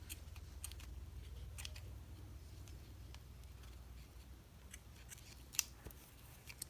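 Scissors cutting crochet yarn while making an amigurumi doll, a few faint, quick snips and clicks spread across quiet background handling noise, with no talking.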